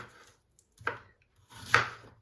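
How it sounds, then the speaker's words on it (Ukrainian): A knife chops apples into small pieces on a cutting board, two distinct thuds about a second apart, quiet and close, with no voice over them. "Ріжемо ми їх на довільні кусочки і невеликі."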